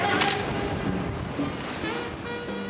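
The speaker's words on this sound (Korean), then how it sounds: "몇 미터 파도쯤 울릉도에선 아무것도 아닙니다." Sea waves crash and surge off Ulleungdo island in winter, a dense continuous rush of surf with wind noise on the microphone, loud and close.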